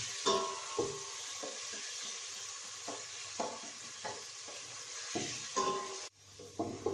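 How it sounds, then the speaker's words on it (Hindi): Onions fry toward light golden in a pan for Punjabi kadhi pakora, a steady close sizzle broken by regular spoon scrapes and stirring knocks, with no talking. "और इसको मैं लाइट गोल्डन होने तक फ्राई करूँगी।"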